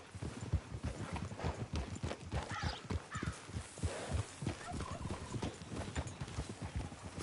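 A horse gallops in a video game, its hooves drumming in a fast, steady clip-clop rhythm close by and loud throughout, with an occasional whinny mixed in.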